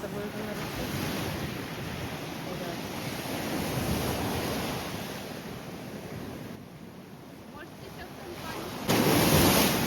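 Steady roar of surf and wind across a beach, broadband and continuous, with a louder rush of wave noise near the end.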